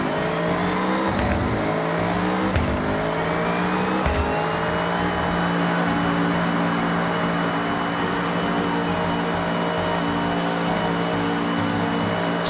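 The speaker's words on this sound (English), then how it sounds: "the auto drive does kind of sound a little bit cursed because there's so much transmission whine with the race trans" A blue Honda Beat with a race transmission drives in Forza Horizon 6, its engine note climbing through gears under a loud, persistent transmission whine, with a few quick shift breaks early on, then a sustained high drone.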